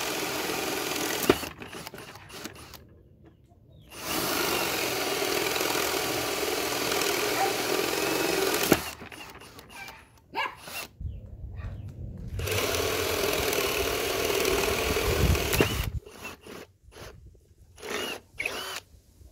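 An Einhell TE CD Li BL cordless brushless drill drives wood screws in several separate bursts, each a few seconds long, whirring loud and close with quiet gaps in between.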